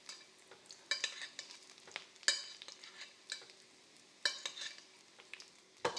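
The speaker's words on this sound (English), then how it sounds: "just go ahead and baste these a little bit." A big spoon bastes smashed potatoes in a hot pan, giving a soft, constant sizzle broken by sharp metallic scrapes and clinks at an uneven pace, close and fairly quiet with no talking.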